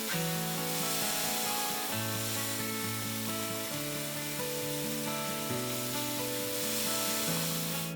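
Steady hiss and crackle of garlic-marinated pork skirt meat sizzling on a hot grill, continuous and fairly close, with a soft tonal layer running underneath.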